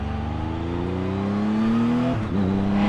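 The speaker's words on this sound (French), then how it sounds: "Dès que tu montes dans les tours, tu as la mélodie du 3 cylindres qui est vachement sympa." A Triumph Tiger 1200 Alpine three-cylinder motorcycle in sport mode revs up steadily with a rising engine note, then briefly drops off and picks up again, heard from the rider's position.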